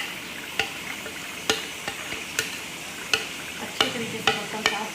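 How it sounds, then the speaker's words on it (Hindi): Minced meat (keema) is stirred into frying masala in a pan, a steady sizzle broken by sharp, irregular spoon scrapes and clinks against the pan, with no talk. "अब हम इसमें डालेंगे अपना कीमा,"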